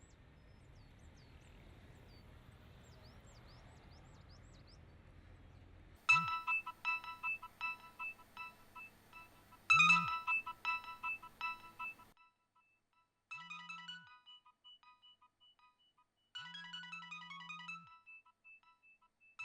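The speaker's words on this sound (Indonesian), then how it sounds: "Teleponmu berdering." A mobile phone rings in repeated electronic ringtone bursts that stop and start several times, loud and close in a quiet room, with no talk over it.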